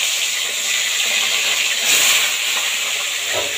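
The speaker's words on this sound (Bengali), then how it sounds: "ওই তেলের মধ্যেই আমি মাছগুলো ভেজে নেব।" Folui fish frying in hot oil in a wok after potatoes were fried in it, a loud continuous sizzle and hiss close by that swells briefly midway, with no voices.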